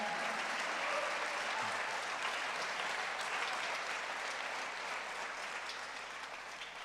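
A church congregation applauds in a steady, dense wash of clapping that carries on at an even level for several seconds, heard from a distance with a slight fade toward the end.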